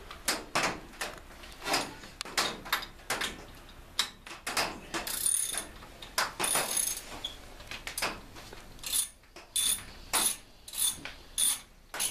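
Hand ratchet loosening bolts on a race car air intake while fitting a restrictor plate: repeated bursts of sharp metallic clicking, close and fairly loud, separated by short pauses.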